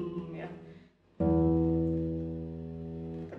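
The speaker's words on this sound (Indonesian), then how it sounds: "Kita juga bisa memainkan di sini sul tasto" Classical guitar plucked with the thumb sul tasto, over the fingerboard: a soft note fades out, then a warm, round single pluck rings and slowly decays, close and alone.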